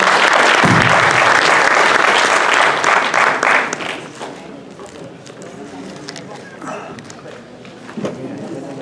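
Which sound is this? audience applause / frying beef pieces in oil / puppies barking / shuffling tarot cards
audience applause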